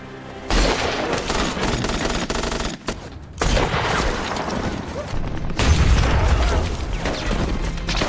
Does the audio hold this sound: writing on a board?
no